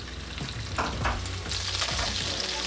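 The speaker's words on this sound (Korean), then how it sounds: "이제 전복 튀겨주고요." Abalone frying in hot oil with garlic, a dense crackling sizzle with a few sharp pops and stirring sounds, close and steady.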